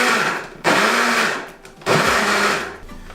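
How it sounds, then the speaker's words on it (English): A kitchen blender pulses guacamole ingredients in two loud bursts of whirring motor, each about a second long, separated by short pauses, with a third brief spin at the end. "we're going to pulse it a few times on our blender here"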